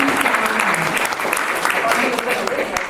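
Audience applause at a plant-based wellness book signing and Q&A in Naples, Florida, sustained dense clapping at moderate loudness with talking beneath.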